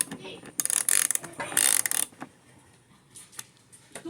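A ratcheting screwdriver clicks in quick bursts as screws are driven into the headlight of a 2007–2010 Cadillac Escalade, close up, followed by softer taps and handling.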